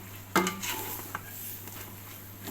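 Ginger being stir-roasted in a metal pan, with a sharp clank of the utensil against the pan followed by scraping, stirring and a soft steady sizzle, close and without talk.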